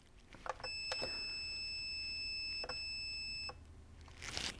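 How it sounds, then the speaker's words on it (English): Perun ETU control board fitted in an airsoft P90 emits a string of short electronic beeps and a sustained steady tone during calibration, close and clear with no voices. "Once it's done beeping,"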